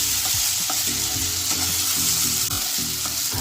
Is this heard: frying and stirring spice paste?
yes